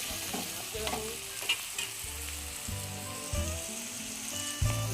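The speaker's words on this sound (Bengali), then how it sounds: "পেঁয়াজটা একটু ভাজা ভাজা হয়ে গেলে মশলাগুলো দিয়ে দেবো।" Onions and spices frying in a pan while being stirred for mutton kosha: a continuous crackling sizzle with regular scraping stirs and a few sharper clinks, close and unaccompanied by speech.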